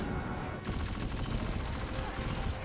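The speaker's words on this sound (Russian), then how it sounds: "Сзади тебя выстрел." Rapid gunfire bursts from the Destiny 2 video game, a dense continuous barrage of shots layered with game effects, loud and close throughout.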